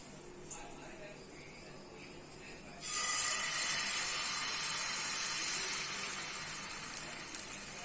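Crepe batter hits hot oil with a sudden bright hiss partway through, then settles into a steady, moderately loud sizzle that carries on to the end after a quiet start.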